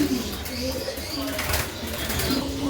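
A breeding pair of pigeons cooing softly, low repeated coos amid rustling and a faint flutter of wings, fairly close with a voice briefly talking nearby.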